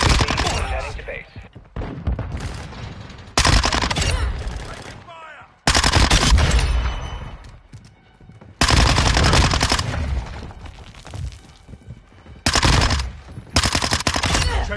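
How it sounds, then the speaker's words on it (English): Bursts of automatic gunfire in a military shooter video game, loud, close and repeated in long volleys separated by brief pauses. "I'm taking effective fire."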